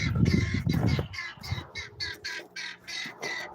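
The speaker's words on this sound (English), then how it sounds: "Hear my guinea birds in there." Guineafowl calling inside a coop in Alaska in a rapid series of harsh, rhythmic squawks, with loud rustling and flapping at the start, nearby and enclosed.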